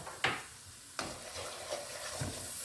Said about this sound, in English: continually stir so we can fry off that raw taste of the curry